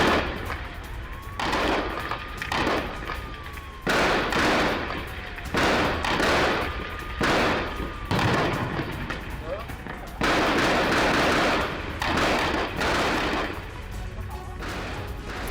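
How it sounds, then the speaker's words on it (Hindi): Gunfire exchange in Jenin in the West Bank, with repeated bursts of shots from both sides, some near and loud, others more distant, and a voice talking over them. "दोनों तरफ से ताबड़तोड़ फायरिंग की जा रही है"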